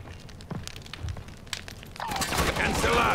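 Video game gunfire from Call of Duty Modern Warfare 3 in a team deathmatch on the Derail map: scattered shots and cracks early on, then a denser, louder burst of firing near the end, with players talking over it.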